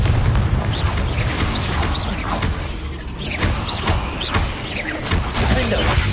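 Confringo blasting spell cast in Hogwarts Legacy, a dense run of repeated whooshing bursts and booming impacts with crashes, loud and busy across the whole stretch amid combat clatter.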